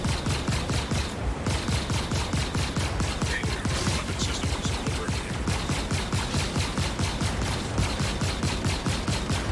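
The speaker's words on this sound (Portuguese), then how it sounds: "Tiro do canhão dele." Rapid spaceship cannon fire in the space combat game Star Citizen, dense continuous bursts of repeated shots pounding throughout at steady loud volume with no pauses.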